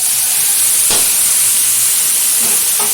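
Chopped radish greens and radish pieces hitting hot oil in a pan, a steady close sizzle and hiss with a brief burst of crackle as they go in, no talking.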